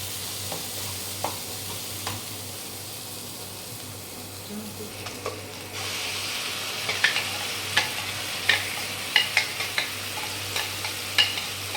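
Ginger, garlic and chili paste being stirred into momo chutney in a pan, steady sizzling frying with repeated scraping clicks of a spoon, close, growing livelier partway through, faint voices in the background.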